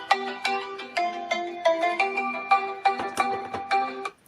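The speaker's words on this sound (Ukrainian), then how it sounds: "І зараз на телефон дружини буде дзвінок." The ZT-9000 stationary GSM desk phone rings with an incoming call, playing a loud, close electronic ringtone melody of repeated tonal notes in a steady rhythm that stops abruptly near the end.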